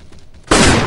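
Sustained burst of AK-47 automatic fire in the shooter game Mask Gun, starting abruptly halfway through and continuing loud and close to the end, after a brief quiet lead-in.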